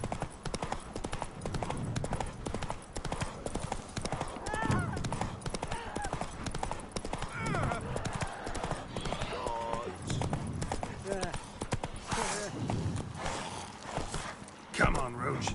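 Hooves of the horse Roach in The Witcher 3 clip-clop in a fast galloping rhythm, faint and steady, mixed with other game sounds and occasional voices talking over it.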